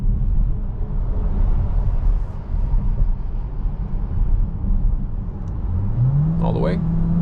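DS7 E-Tense 225 hp plug-in hybrid SUV in sport mode accelerating onto a highway at night: steady cabin drone of road and engine noise with a rising whine climbing in pitch near the end.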